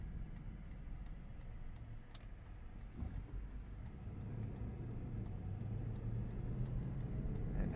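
The 5.7-liter naturally aspirated V8 of a 2021 Toyota Land Cruiser hums low and steady from inside the cabin while driving, rising slightly toward the end, with faint regular ticking of the turn signal above it.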